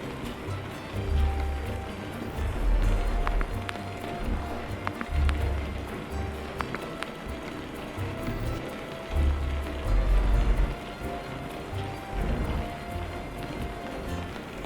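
Steady rain falls on a truck hauling fuel out of Bologna in Euro Truck Simulator 2, a constant wet hiss and patter over a low, pulsing engine rumble, with no voices.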